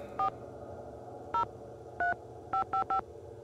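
Telephone keypad dialing a number: seven short dual-tone beeps, a single one, then two more spaced apart, then a quick run of three at the end, heard clearly over a quiet room hum.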